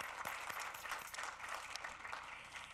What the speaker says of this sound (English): I want you all to just stand up for one round of applause again